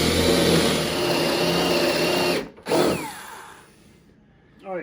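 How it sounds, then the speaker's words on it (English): A power drill bores a counterbore into the wood of an upright piano during a toe block repair, whirring steadily for over two seconds, cutting out briefly, then running again before trailing off, with a short final burst at the end. "Let's do a counter bore."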